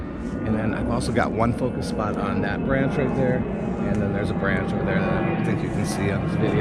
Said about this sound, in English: Sorry about the airplane noise.